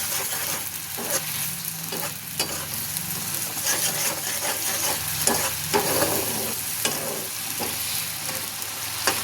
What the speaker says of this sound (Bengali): হলুদ দিলাম এবং লঙ্কা গুঁড়ো দিলাম। এবারে এটা ভালো করে কষাবো।